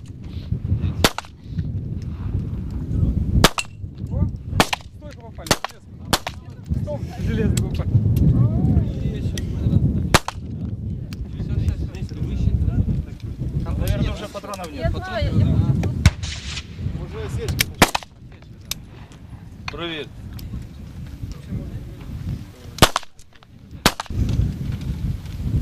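Gunshots ring out at an outdoor military firing range as women shoot, sharp cracks arriving irregularly at varying distances, with wind buffeting the microphone and low voices murmuring between shots.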